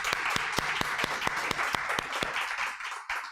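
A church congregation claps in time together, a series of sharp, evenly spaced collective claps over a bed of scattered applause that thins out toward the end.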